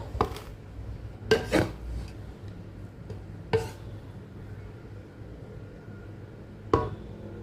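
A spoon scraping and knocking against a cooking pot while stirring pulao, a few distinct metallic clanks spaced apart over a soft, steady background.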